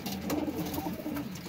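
Soft, low cooing of breeder pigeons repeats in a steady murmur against a faint background hiss, fairly close.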